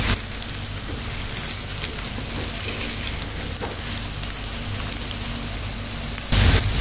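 Gram flour balls shallow-fry in a spiced tempering, giving an even, dense crackling sizzle close by that holds steady throughout and briefly swells louder near the end.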